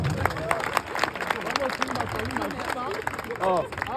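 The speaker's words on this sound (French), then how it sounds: "Ça mérite les applaudissements, s'il vous plaît." A live audience at a stand-up comedy show applauds in a steady wash of clapping, with cheering voices and chatter mixed through it.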